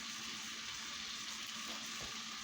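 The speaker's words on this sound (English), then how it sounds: "You hear the sizzling?" Soft, steady sizzling of food frying in a pan for homemade sandwiches, a constant fine crackle at low volume with no talking.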